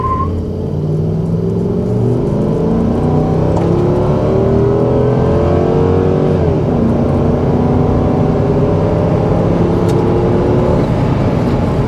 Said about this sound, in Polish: Pora sprawdzić, jak ten samochód rozpędza się ze startu zatrzymanego do 100 km na godzinę.